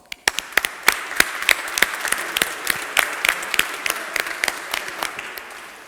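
A modest audience at a live banking hackathon event claps for its diamond sponsors, with distinct individual claps standing out in an irregular, moderately loud patter.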